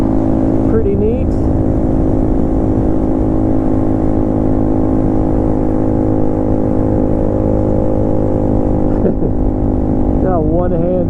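A 2014 Yamaha Zuma 125 scooter hums along at a steady pace, a continuous close engine drone with wind noise throughout and someone speaking briefly over it.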